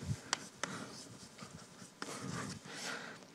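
Chalk writing out a theorem on a lecture-hall board, scratchy strokes with a few sharp taps, fairly faint and close, with no talk.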